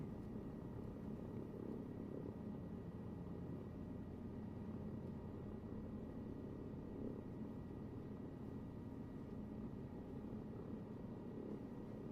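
Helicopter flying in Microsoft Flight Simulator 2024, a steady low rotor and engine drone with no pauses, fairly faint and heard alone with no voices.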